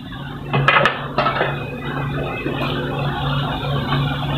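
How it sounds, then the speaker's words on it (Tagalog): A metal lid is set onto a cooking pot while chicken caldereta with coconut milk simmers, giving a few close clinks and a clatter early on, followed by a low steady kitchen hum. "takpan ko muna. Takpan muna."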